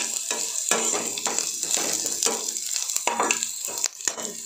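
Vegetables and spices, including pumpkin and asafoetida, fry in a pan with a bright sizzle broken by repeated stirring scrapes, close and lively throughout.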